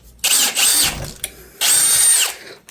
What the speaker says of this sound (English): Forgot to record the drilling. I know it's boring, but there it is.